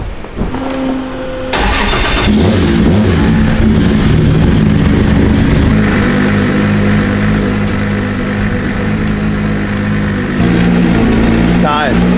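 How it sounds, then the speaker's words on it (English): A 1000-horsepower JZ-engined pro car starts up and idles with a loud, steady mechanical rumble, then rolls out under its own power with continuous engine drone, and people talk over it. "I'm pulling this car outside under its own power"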